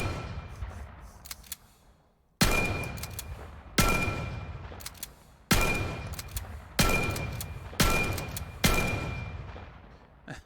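Five loud shotgun blasts in a VR shooter played with a Wield gunstock, each a sharp crack with a ringing metallic tail, spaced about a second or two apart after a quiet start.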